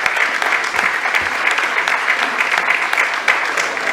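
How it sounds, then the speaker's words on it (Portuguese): An audience at a school award ceremony, held during a municipal commemorative session, claps steadily and close by, the dense applause pulsing slightly without fading. "a Lu Loureiro de Sousa, a quem chamava e pedia um aplauso"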